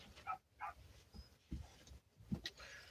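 A dog makes soft whimpers and yips at a low level outdoors, a few short sounds spread across a quiet, breezy background.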